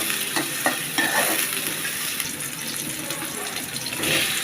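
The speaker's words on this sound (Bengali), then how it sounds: "একটু ভেজে নিতে হবে।" Chopped ginger and garlic frying in a pan, with a loud, constant hissing sizzle and a few stirring knocks early on, heard up close with no talking.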